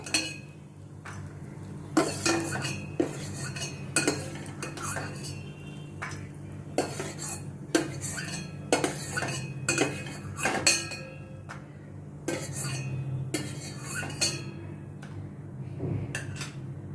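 Roasted nuts being scooped from a pan onto a plate, with repeated metal spoon scrapes and clinks against cookware in an irregular rhythm over a faint background sizzle, close by.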